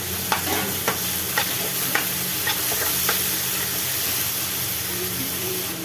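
Onions and tomatoes sautéing for murukku gravy, a steady close sizzle with a few sharp spoon scrapes against the pan early on, then continuous frying hiss with no talk.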